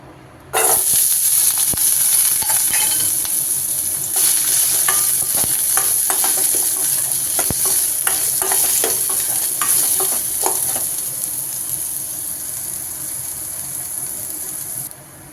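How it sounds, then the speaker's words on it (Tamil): Grated coconut sautés in a hot pan for Tamil coconut thuvayal, a steady close sizzle and hiss running throughout with repeated scraping stirs of a spatula against the pan, no voices. "இப்போ தேங்காய் வதக்கிக்கலாம்"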